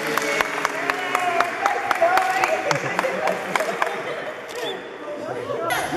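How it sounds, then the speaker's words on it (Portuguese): Applause from a church gathering for Maria Helena at an anointing, sharp individual claps ringing out over a bed of crowd clapping and murmuring, thinning out near the end. "Uma salva de palmas para Maria Helena"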